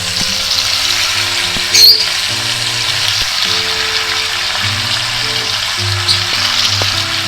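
Pork meat, cut into large chunks, fries in a pan alongside pork cracklings, giving a continuous close sizzle with a few faint clinks and one brief louder scrape.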